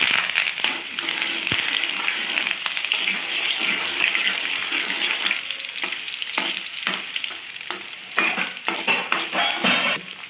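Dried red chilies and curry leaves fry in hot oil along with peanuts for a spicy okra fry, a close, crackling sizzle broken by stirring scrapes and sharp spatters, with no voices.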